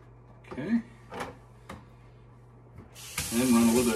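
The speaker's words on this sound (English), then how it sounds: "run a little bit of cold water down there" A few brief knocks and clatters, then cold water gushes loudly from a tap into a sink drain with a garbage disposal, a bright continuous hiss.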